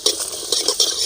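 Dry red chillies and coriander seeds roasting in a pan for Tamil puliyotharai, giving a close, steady crackling sizzle with a few stirring scrapes at a slow, regular pace.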